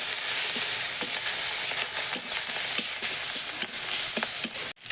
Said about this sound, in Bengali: কড়ায় তেল দিয়ে দিয়েছি, ভুসো চিংড়িগুলো দিয়ে দেবো।